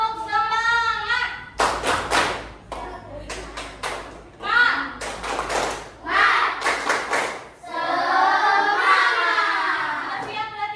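A school class does a rhythmic spirit clap, with bursts of unison hand claps in patterned groups. A teacher's voice and children's chanting come between and over the claps.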